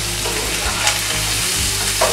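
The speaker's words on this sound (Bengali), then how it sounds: "আমাদের এটা প্রায় রান্না এখন ভাজিটা হয়ে গেছে," Octopus frying in oil in a Bangladeshi home kitchen, a steady close sizzle and crackle running throughout with faint stirring scrapes, no talking.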